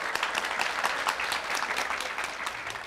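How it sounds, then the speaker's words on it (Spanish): Clapping heard alongside a baby clapping its hands, a steady run of fairly close, crisp claps at an even, brisk rhythm, with no voices over it. "mire cómo aplaude, mire cómo aplaude"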